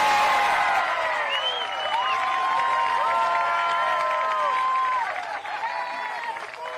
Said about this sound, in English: I get this nice little round of applause.